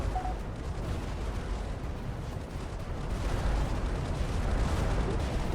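Vehicle blown up in a Korean War strategy game with ICBM escalation, a low rumbling explosion and battle noise that swells midway and stays heavy and continuous.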